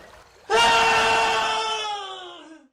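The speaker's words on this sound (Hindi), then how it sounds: "अरे अरे ये तो किसी इंसान के चीखने की आवाज़ है।" A single loud human scream used as a story sound effect, bursting in suddenly and sustained for about two seconds before trailing off, heard alone with no talking.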